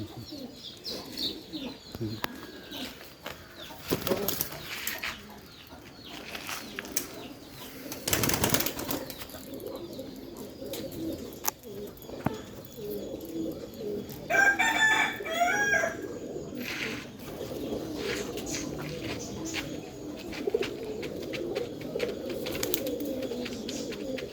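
Pigeons coo at a pigeon loft, soft and continuous at moderate distance, with a rooster crowing briefly partway through and rustling and other bird sounds around them.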